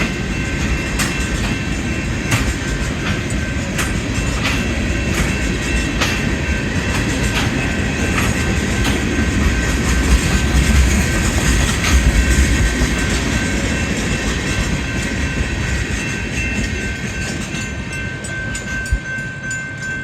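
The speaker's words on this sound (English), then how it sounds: "the end of the train is approaching." A long Union Pacific freight train with a string of tank cars rolls slowly past a road crossing close by, with continuous rumbling, rhythmic clacking of wheels over rail joints and occasional metallic squeals.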